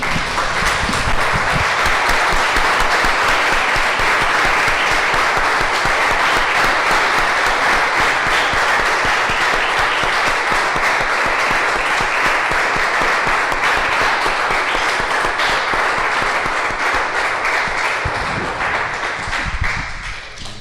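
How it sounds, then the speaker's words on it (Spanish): A church congregation applauds at length, a dense, sustained wash of many hands clapping that holds steady for about twenty seconds before tapering off. "Damos un aplauso, hermanos, Señor."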